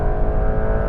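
A Porsche 911 GTS making a launch start, its engine a loud, steady, harmonic roar held at high revs for a brief moment, close and alone.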